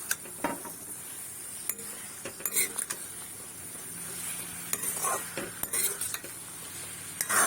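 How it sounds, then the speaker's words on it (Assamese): Sponge gourd stir-fried in a pan, with repeated scraping strokes of a spatula and clinks against the metal over a soft background sizzle, close and fairly quiet, no voices. "ভোলখিনি দি পিনে ভালদৰে ভাজি লম"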